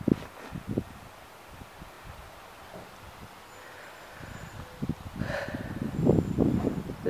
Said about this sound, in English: Now you can hear the wind.